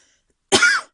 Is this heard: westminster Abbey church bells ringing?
no